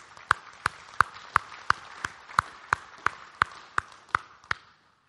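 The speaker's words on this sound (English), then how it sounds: "Let's give the Lord a clap of praise." A church congregation claps in praise, about a dozen crisp, evenly spaced claps in a steady rhythm that stop abruptly near the end.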